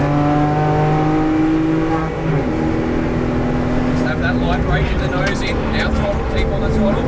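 A car under throttle on a race track during a track-school session, its engine droning loudly and steadily with shifting pitch as it pulls through a corner, heard from inside with constant road and wind roar.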